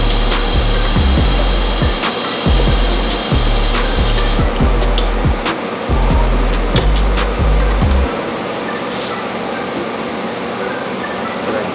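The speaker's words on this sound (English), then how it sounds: "once it's tack welded we'll take it out and fully weld this bracket to the pipe" Short repeated welding bursts tack a bracket onto a Subaru 2.5 RS exhaust pipe, a steady crackling buzz pulsing in quick rhythmic spurts for several seconds before the sputter stops and a quieter hum remains.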